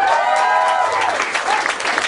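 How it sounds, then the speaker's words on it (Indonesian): An audience at a stand-up comedy show claps loudly and steadily, a dense close burst of applause with a few crowd voices mixed in. "Tepuk tangan dong."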